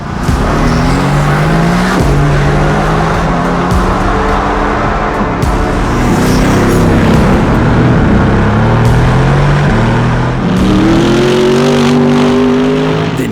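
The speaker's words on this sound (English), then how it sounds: "These rear wheels are extremely noisy, so no wonder there's a constant hum inside here." A steady, loud low rumble of road and tire noise, mostly from the rear wheels, fills the cabin of a moving Mercedes-AMG GT R, droning continuously with faint engine tones shifting underneath.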